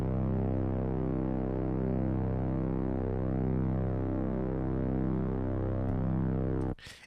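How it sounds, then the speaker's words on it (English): A steady, sustained drone from a Drone Ranger effects pedal, a dense throbbing hum of layered tones holding evenly for nearly seven seconds, heard alone before it cuts off abruptly at the end. "And this drone is from the Drone Ranger effects pedal"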